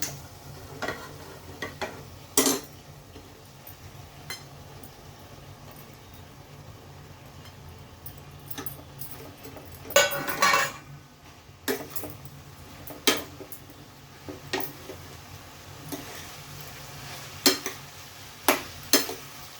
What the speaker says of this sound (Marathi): मिरची आणि कोथिंबीरची जी पेस्ट आहे ती पण त्याला थोडीशी परतून घेऊया आणि आपण आता इथे भेंडी घालतो